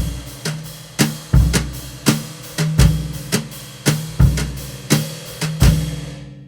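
Drum kit played as a looping two-bar pattern by a self-taught non-drummer: steady, evenly spaced punchy hits with kick and snare alternating at a moderate tempo, close and clear, no voices.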